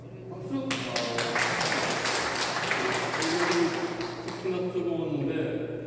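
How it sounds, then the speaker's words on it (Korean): Applause from guests at the opening ceremony of a calligraphy and literati painting exhibition, a sustained burst of clapping from a room of people, with voices talking over it. "박수."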